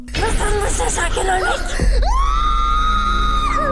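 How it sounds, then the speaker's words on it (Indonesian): A woman screams loudly while pleading not to be made an organ donor, her long shrill cry rising over busy talk and background voices, then holding as one sustained, piercing wail. "wanita itu berteriak kencang memohon agar tidak dijadikan donor"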